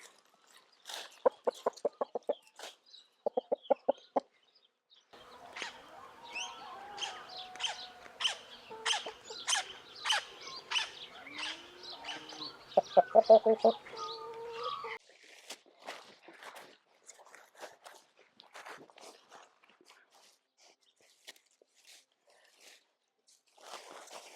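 Hens cluck and squawk in bursts close by in a vegetable garden, with scattered footsteps and rustling over a busy stretch of fowl chatter, then quieter pecking sounds.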